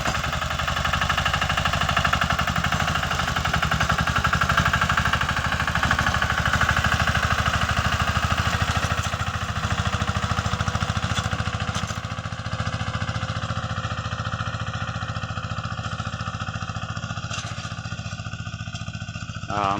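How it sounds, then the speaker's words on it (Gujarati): A village-built sanedo farm vehicle, a blacksmith-made mini-tractor-like machine, runs its engine steadily close by, a loud, continuous chugging rumble that holds for the full stretch with only slight shifts in level. "અમારા ગામનો બનાવેલ સનેડો ભાઈ, કંઈ ઘટે જ નહીં. મિની ટ્રેક્ટર જેવું કામ આપે."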